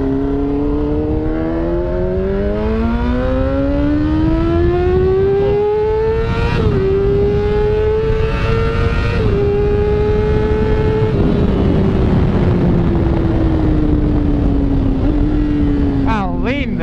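A Yamaha R6 600 motorcycle engine revs up loudly and close by, its pitch climbing steadily, holding high, then easing down, with voices talking over the engine.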